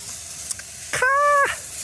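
Garlic and caraway sizzle in a pan with a steady, close frying hiss, broken midway by a short tonal, voice-like sound.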